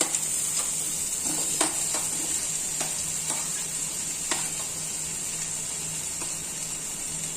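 Chopped onions sizzle in melted butter in a pan, a steady bright frying hiss with occasional light clicks and pops from stirring, close and alone without talk.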